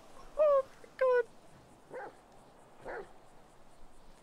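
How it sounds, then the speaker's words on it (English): Dogs in GTA 5, set off in the Los Santos heat, give two sharp high yelping barks followed by two softer whimpering cries, spaced out over a quiet background. "You set the dogs off now."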